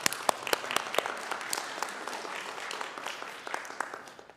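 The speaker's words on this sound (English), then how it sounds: "Let's clap for the book." A congregation claps during a worship service, a lively mix of loud individual claps over a rolling wash of applause that gradually thins out.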